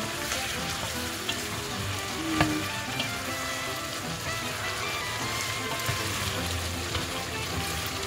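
Chicken adobo with bay leaves sizzles and fries steadily in a pan while being stirred, a dense, continuous crackle with a brief scrape of the spoon, no talking.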